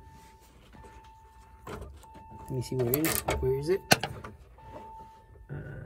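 Power window motor on a 1980s BMW E30 325i convertible, a brief whirring electric drone that rises and stops, heard close among rustling and a clunk, with a person talking nearby.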